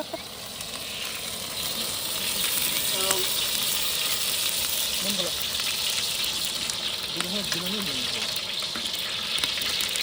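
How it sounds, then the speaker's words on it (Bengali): Eggs fry lightly in mustard oil with a constant, close hiss of sizzling that holds evenly throughout, with a few faint clinks in the background. "আমরা এখন হালকা করে ডিমগুলা ভেজে নেব সরিষার তেল কিছু পরিমাণ আমরা দিয়ে দিলাম"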